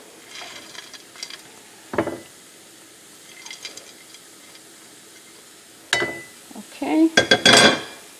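A sticky date and fig mixture with nuts is mixed in a pan, giving scattered scrapes and clinks of utensil on metal that grow busier and louder toward the end, with a brief spoken word.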